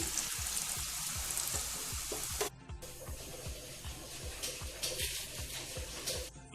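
Gram flour boondi fry in hot oil for a homemade mixture snack, with a loud, dense, continuous sizzle and regular rhythmic scraping strokes from stirring. No one talks.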